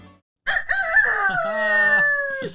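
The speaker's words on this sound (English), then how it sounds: "I hear the sound of that rooster" A single loud, close rooster crow, drawn out over about two seconds with a rising start and falling end.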